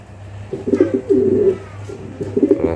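Pigeons on a pigeon farm coo close by in soft, low, throaty rolling phrases, three short bursts in quick succession over a faint background hum.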